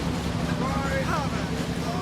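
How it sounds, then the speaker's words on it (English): Ship engines rumble into life in a radio drama set aboard an ocean liner, a steady low drone with wind-like hiss and a faint rising tonal whine, continuous throughout. "Listen, the engines are starting again."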